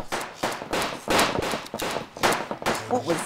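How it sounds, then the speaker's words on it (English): Several sharp gunshots fired into the air in a game setting, loud bursts spaced irregularly across the moment with people talking over and between them. "I'm shooting the air."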